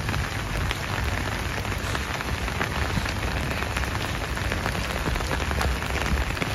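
Heavy rain falls steadily during floods in Casablanca, a dense, loud, continuous patter of drops striking surfaces close by, with no voices over it.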